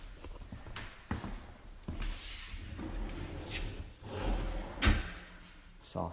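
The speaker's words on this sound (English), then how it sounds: "Soft closed drawers." Soft-close kitchen cabinet drawers shutting in a home, a series of muffled thumps and sliding rumbles spaced a second or so apart, fairly close, with light room noise between them.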